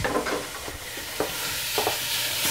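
Half a pound of lean hamburger browning in a pot, with a steady crackling sizzle and a few scraping stirs of a utensil against the pot, close and with no talking.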